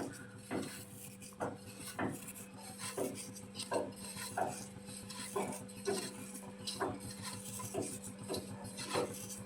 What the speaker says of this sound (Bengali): কসুরি মেথিটা একটু কাঠের সাহায্যে এরকম গুঁড়ো করে নিচ্ছি